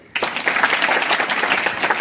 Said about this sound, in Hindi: उसके लिए तालियां बजाओ।